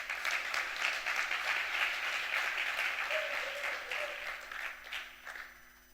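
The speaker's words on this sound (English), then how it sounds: "Give him some claps." A crowd at a Python programming conference talk claps for the presenter, a steady round of applause that swells early and then gradually fades out.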